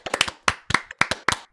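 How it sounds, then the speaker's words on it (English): After a tech talk on cloud technology, a few people clap in short, uneven bursts, sharp and close, with brief pauses between claps rather than a full sustained applause. "let's give them one more round of applause"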